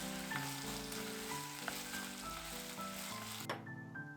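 Sausages stir-fry in a pan as a quiet, steady sizzle, with a few light spoon taps and a faint musical backing throughout.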